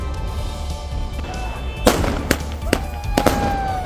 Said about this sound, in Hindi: जिसके बाद बारामूला में जमकर आतिशबाजी की गई। उनके परिजनों और रिश्तेदारों ने खूब पटाखे छोड़े।